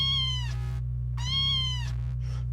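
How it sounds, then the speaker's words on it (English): A sampled cat meow is played through a Behringer Neutron synthesizer's oscillator, two drawn-out electronic meows over a steady low synth drone. "using the oscillator in for the sample of the cat noise."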